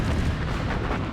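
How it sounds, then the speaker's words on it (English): Main battery guns of the battleship USS Washington, 14- and 16-inch naval rifles, firing at sea against the battleship Kirishima: a dense, continuous low rumble of heavy gunfire, loud and sustained, with no talking. "The thunder of 14-inch and 16-inch rifles and cannons echoes across the sea"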